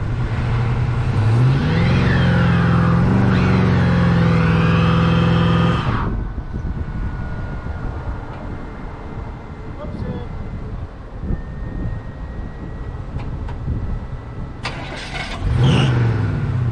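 A 1964 Chevy Nova engine revs hard and loud up close as the tire spins to warm up for a ramp, then drops to a lower idle with light clatter and a brief rev near the end.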